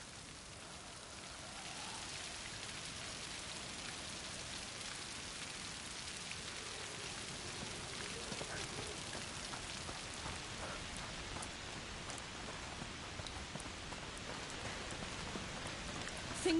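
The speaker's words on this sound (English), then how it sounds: "Foul rain." Steady rain in the video game A Plague Tale: Requiem, a continuous dense hiss of drops on surfaces with faint distant rumbles, unbroken for the whole stretch with no voices.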